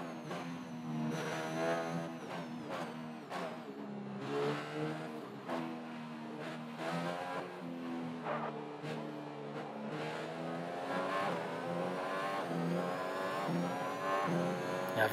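Race car engine from the F1 2021 video game, a steady high-pitched whine that climbs and drops through gear changes, loud and continuous with no talk over it.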